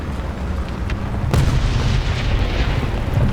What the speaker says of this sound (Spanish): La artillería está muy motivada.